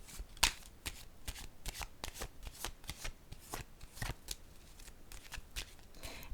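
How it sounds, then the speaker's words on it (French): Tarot cards are handled and laid on a table: a quiet run of crisp, rapid flicks and light papery taps, close and soft, with no talking. "Je vais déposer une carte ici."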